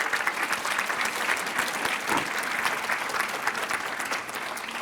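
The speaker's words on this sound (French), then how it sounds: "On vous applaudit d'abord." Sustained applause from a conference audience at a French public-health cancer institute meeting, steady dense clapping filling the room throughout without pause.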